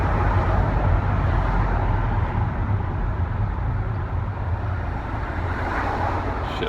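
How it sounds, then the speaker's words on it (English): Inside a moving car, a broad steady rumble of road and tire noise mixes with wind, continuous and fairly loud with no distinct passing vehicles and no talking. "shit, I'm hitting some traffic."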